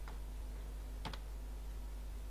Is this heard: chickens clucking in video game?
no